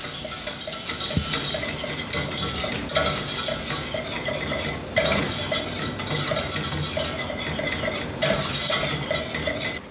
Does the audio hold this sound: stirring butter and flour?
yes